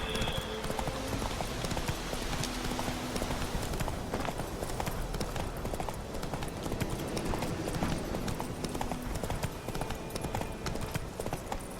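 Roach, the horse in The Witcher 3, gallops with a rapid, steady clatter of hooves, loud and close, sustained throughout with busy game ambience underneath.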